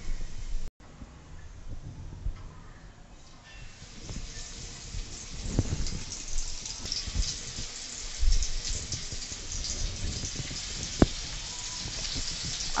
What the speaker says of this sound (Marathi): आता आपण तव्यामध्ये सुरमईच्या तुकड्या तळण्यासाठी घालूयात।